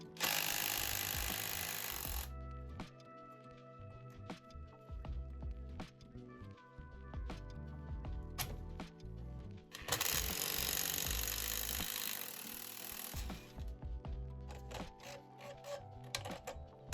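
Bursts from an impact driver on a ZX7R motorcycle during engine removal, loud close rattling hammering in two long runs with shorter clicks, clatter and handling noise between, no talk.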